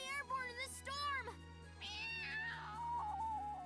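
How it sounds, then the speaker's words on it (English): A cartoonish cat character meows several times in the La Pucelle Tactics video game, with drawn-out, rising and falling cries that are close and fairly loud, over a steady game tone. "Enough with your meowing."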